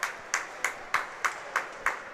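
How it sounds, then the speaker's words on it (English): One person claps slowly and steadily beside a high school hockey all-star game, eight crisp claps about a third of a second apart, moderately near and alone without voices. "Johnny applauding"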